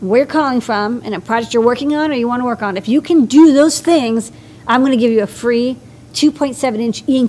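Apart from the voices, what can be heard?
No distinct noise like a dog, phone or traffic.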